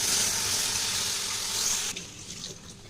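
Milk pours steadily into a pan of semolina, nut and coconut filling with a continuous liquid rush and hiss that cuts off abruptly partway through, leaving faint stirring sounds.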